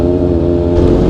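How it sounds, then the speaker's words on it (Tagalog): Loud, close road traffic in Dagupan City, Pangasinan, with superbikes such as a Kawasaki Katana and a Yamaha R6 among the passing vehicles, a dense engine drone that swells as one revs past, with a voice over it. "Traffic oh."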